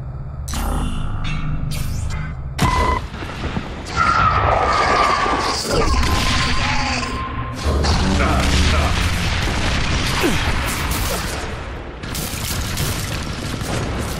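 Support-fire explosions in the shooter The Bureau: XCOM Declassified: heavy booms and rumbling blasts roll on continuously amid mechanical game noise, loud and dense, with voices speaking over parts of it.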